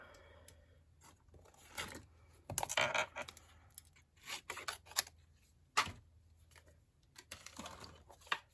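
Scissors fussy cutting small pieces of fabric: quiet irregular snips and crunchy blade closes in clusters, with soft rubbing and handling of cloth between cuts, close up and without talk.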